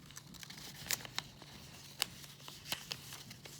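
Thin origami paper being opened, pushed in and creased by fingers, with soft crinkles and a few sharper crackles scattered over a quiet, close background.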